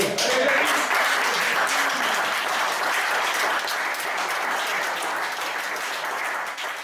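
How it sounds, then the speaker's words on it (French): A crowd at a paddle raid thank-you gathering applauds together, a thick, even wash of clapping that holds steady and loud before easing off slightly at the end, with faint voices mixed in. "on lève son verre et on applaudit Jackie."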